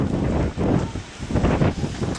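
Wind gusting outdoors and buffeting the microphone, a loud continuous rushing roar that swells and dips in waves, with no voices over it.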